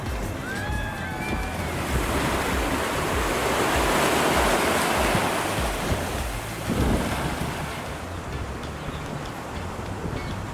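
Sea waves wash onto the shore in Aruba under strong gusting wind that buffets the microphone, a steady roar swelling and easing with a few faint bird calls early on.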